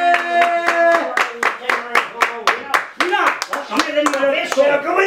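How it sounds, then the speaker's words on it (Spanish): Rhythmic group clapping in a steady beat for the performer Arlequín, close and punchy, with shouting and singing voices over it. "¡Ese aplauso fuerte para Arlequín!"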